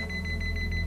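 An electronic alarm in the Yakuza 7 video game beeps rapidly and evenly, a steady high-pitched pulse over a constant low hum.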